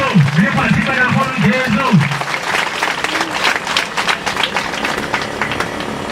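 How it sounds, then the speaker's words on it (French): A Pentecost Monday Mass congregation at Oké-owo bursts into loud, sustained applause and acclaim for Jesus, dense clapping filling the space while a chanting voice rings out at the start. "On acclame très fort ce Jésus de Nazareth."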